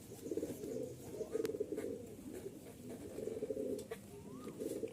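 Breeding pairs of pigeons coo steadily in a loft, soft low rolling calls repeating in overlapping waves close by, with a few faint chirps from other birds in the background.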